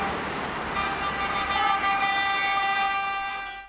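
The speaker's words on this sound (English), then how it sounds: "Here's a sample of some street sound filmed directly next to one of these no honking signs." Car horns blare in a sustained, loud tone over busy street traffic in a Chinese city, holding steadily before fading at the end.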